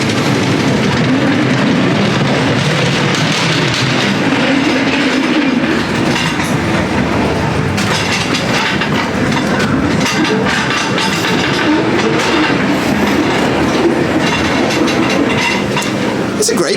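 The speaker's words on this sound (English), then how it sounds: "It's a great ghost train, this" Ghost train ride cars at Blackpool Pleasure Beach rattle and clatter along their rails in a continuous loud rumble with rhythmic clicking and occasional squeals, close by throughout.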